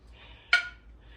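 A single sharp metallic ping from a canning jar lid sealing on a jar of freshly canned zucchini relish, heard once, close and clear, over a quiet kitchen background.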